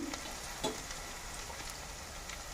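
Garlic frying briefly in oil for tempering a beetroot and potato sabji, a faint, steady hiss and crackle with a few small pops.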